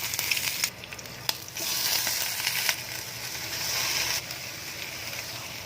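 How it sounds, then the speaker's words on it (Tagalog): Shrimp fry in hot oil, giving a steady close sizzle and hiss with occasional stirring clicks and bursts, fairly quiet and without talk. "Pag mainit na po yung mantika, ilalagay ko na po yung shrimp."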